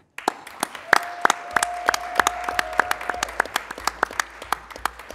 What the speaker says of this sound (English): Let us cheer for our cheerleaders.